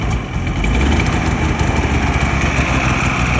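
A snowmobile engine, revived after sitting close to six years, idles steadily and loudly close by, a continuous rough rumble with no talking.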